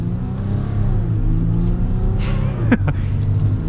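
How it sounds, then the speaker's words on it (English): A 2023 Ram 1500 Laramie pickup with the EcoDiesel engine pulls away, its steady low diesel drone and rumble swelling gently under the cabin, with a brief clunk or thump near the end and no talk. "So we are going to get up and get our acceleration here with the Eco-Diesel."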